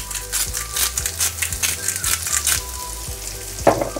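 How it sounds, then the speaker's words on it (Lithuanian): Sweet potatoes frying in a pan, a close, loud crackling sizzle with bursts of spattering and occasional scraping stirs, with no talk. "Ir atskirai dar truputį kelias minutės pakepinsiu saldžias bulves."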